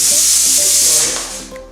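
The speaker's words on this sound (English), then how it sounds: "So while meat is getting boiled" Meat for Laal Maas cooking in a pot, giving a loud, steady close-up sizzling hiss that eases off slightly toward the end.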